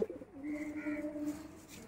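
A female pigeon with a faint red crest coos softly nearby, a single drawn-out low call that holds steady for over a second before fading out.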